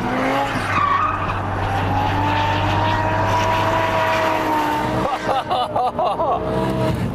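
A BMW M6 G-Power pulls hard at full throttle in third gear while drifting, loud sustained engine roar with screeching tire squeal, the pitch shifting and pulsing toward the end.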